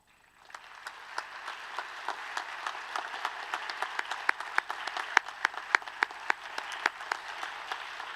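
An audience at a school Students of the Year ceremony applauding, building from scattered claps into steady moderate clapping with distinct sharp individual hand claps standing out across the room.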